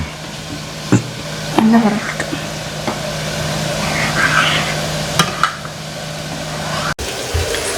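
Onions sauté in a pan with a steady frying sizzle and occasional stirring clinks and scrapes, continuous and fairly close.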